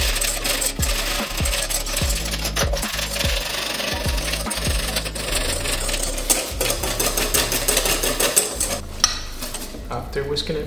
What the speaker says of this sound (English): After whisking it for a few minutes, I'm getting there to the nice consistency of homemade whipped cream